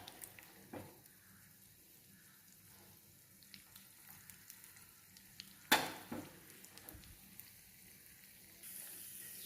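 Cashews and almonds fry in hot ghee in a small tempering ladle, giving a faint, steady sizzle. A sharp metal clatter midway and a few soft knocks cut through it.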